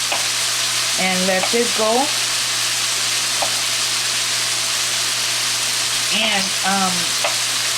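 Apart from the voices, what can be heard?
shrimp and fried rice sizzling and being stirred in a pan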